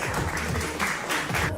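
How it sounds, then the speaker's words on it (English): Audience applause for Kim Clayson on a live call-in show, a steady wash of clapping that holds at an even level for the whole short stretch. "Clap it up for Kim Clayson."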